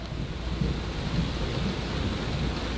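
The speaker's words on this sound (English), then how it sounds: "But we have a ton of thunder," Deep thunder rolls continuously beneath steady heavy rain, a broad low rumble with the hiss of rainfall over it, no voices.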